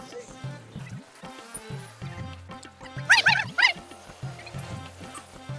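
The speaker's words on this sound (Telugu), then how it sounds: "కుక్కలు ఎంబడి పడ్డమైంది" Dogs chasing someone bark in a rapid run of loud yips and woofs, with several sharp, overlapping barks bunched near the middle amid background voices and noise.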